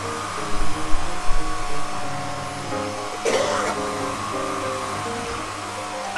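A Shark NV601UKT bagless vacuum cleaner sucks up spilled flour with a continuous loud whooshing roar that holds steady, interrupted by a brief rough burst partway through.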